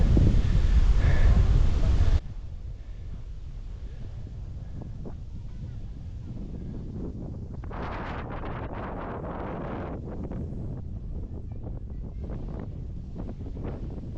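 Strong wind buffeting a microphone at the top of a 40-step climb at a nature center, with a very loud roaring gust over the first two seconds, then steady lower rumbling and flapping wind for the rest.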